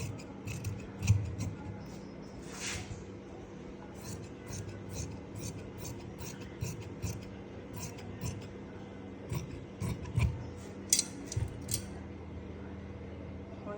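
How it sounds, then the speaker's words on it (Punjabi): Scissors snip through lining fabric for a suit sleeve in a series of short, crisp cuts. The cuts are quiet and close, spread steadily over the clip, with a low steady hum underneath and no talking. "ਬਸ ਇਹਦੀ ਕਟਿੰਗ ਕਰ ਦੇਣੀ ਆ ਇਦਾਂ ਬਹੁਤ ਸੌਖੇ ਤਰੀਕੇ ਨਾਲ ਕਟਿੰਗ ਹੋ ਜਾਂਦੀ ਲਾਈਨਿੰਗ ਵਾਲੇ ਸੂਟ ਦੀ"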